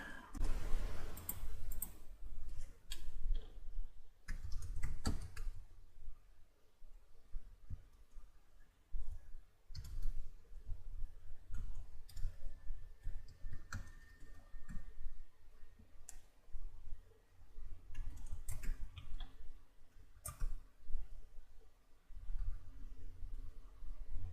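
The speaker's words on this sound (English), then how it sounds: "let me just type this in real quick" Steady, close typing on a computer keyboard while entering C code in the Atom editor on Windows 10, with irregular clicks and short pauses throughout and no talking.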